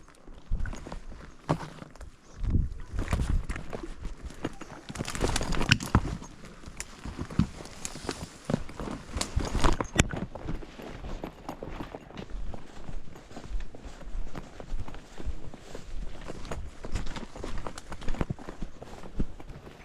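Steady, uneven footfalls from ridden horses on a wilderness trail back to a remote cabin continue throughout, close and moderately loud, with brief heavier bursts of trampling and no voices.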